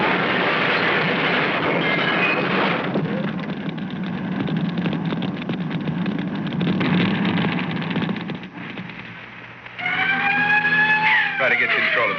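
Radio drama crash effect as a vehicle rams a gasoline truck head-on: a loud, sustained rumbling roar and clatter of wreckage lasting several seconds, then a brief lull before screeching, siren-like tones rise near the end.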